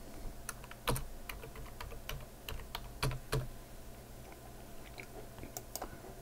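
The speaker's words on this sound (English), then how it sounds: "So you just type in what you want." Computer keyboard typing while entering an album title in CD ripping software: scattered quick key clicks at a modest level, several sharper taps standing out, with no talking.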